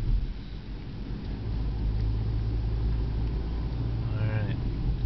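A repairable salvage 2010 Chevy Equinox cruises down the road at about 32 mph with a steady low tire and engine rumble from inside the cabin, and a brief voice near the end.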